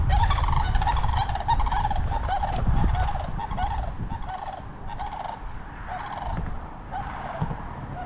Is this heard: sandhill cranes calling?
yes